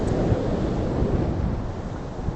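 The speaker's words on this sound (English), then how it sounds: "It's very windy" Strong wind roars steadily across the microphone, a dense, rumbling rush that never lets up and has no voices over it.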